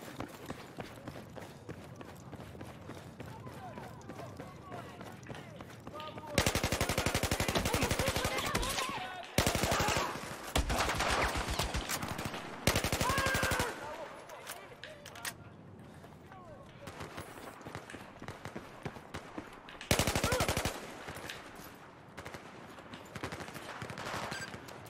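Machine-gun fire from a mounted turret in the Battlefield 4 campaign comes in several loud, dense bursts between stretches of quieter game noise, with running footsteps and a voice talking underneath.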